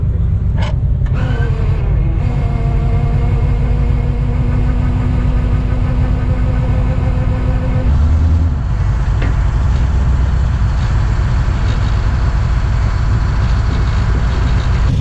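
A rolled-over vehicle, just winched back onto its wheels, idles with a steady low engine rumble and harmonic whine, close by and continuous, shifting briefly partway through before settling into a rough, even idle.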